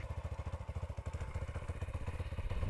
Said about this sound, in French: tu me fais des lâchers d'embrayage sans accélérer.